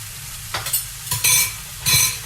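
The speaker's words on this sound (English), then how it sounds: "it's gonna make that sizzling noise when it hits the pan" Chicken pieces seasoned with salt sizzling loudly in a very hot pan, with bursts of crackling frying as pieces are stirred and moved, close up and with no talking.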